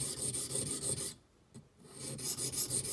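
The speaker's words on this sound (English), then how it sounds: "It's going to take a little grinding" A knife with a thick edge is ground on a Japanese sharpening stone, giving a steady, close, rhythmic rasping with a brief pause midway before the strokes resume.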